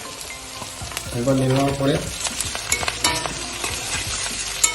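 Chopped ginger and green chili fry in a pan with a continuous sizzling crackle, and a voice talks briefly over the frying.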